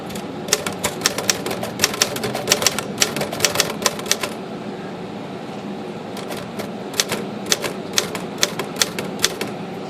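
A Royal HHCS typewriter fitted with a carbon ribbon types in quick bursts of sharp keystrikes, close and loud, with a brief lull before the rapid clatter resumes over steady room hum.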